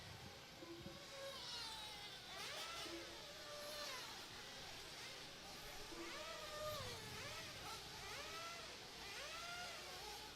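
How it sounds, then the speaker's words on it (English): Race cars rev and scream past at a racetrack during Saturday qualifying at the 2025 Racetime Wicked Weekend, their engines rising and falling in repeated sweeping passes, distant and steady beneath a continuous background roar. "I could just hear cars revving up right now."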